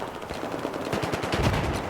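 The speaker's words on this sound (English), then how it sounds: "Enemy machine gun spotted." Rapid machine gun fire from the Battlefield 4 video game rattles in quick, dense bursts, growing louder and steadier through the second half, with no talking over it.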